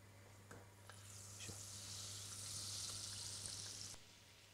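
Butter and olive oil sizzle steadily in a heated 3-litre pot, a broad hiss swelling after the first second and holding loud and close, with faint clinks and a low steady hum beneath.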